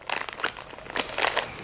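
Clear ice pieces being dropped into a plastic ziplock bag, a quick series of crinkling plastic rustles and light crunchy clinks in a few bursts, close by and fairly quiet.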